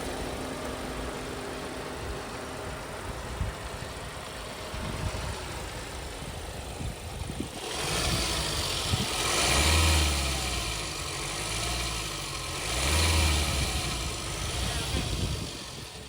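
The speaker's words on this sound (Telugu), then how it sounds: "ఒకసారి ఇంజిన్ అయితే స్టార్ట్ చేసి చూద్దామండి." A used Hyundai Creta engine starts after a stretch of quiet background noise, then settles into a steady idle broken by two or three loud revs, heard up close.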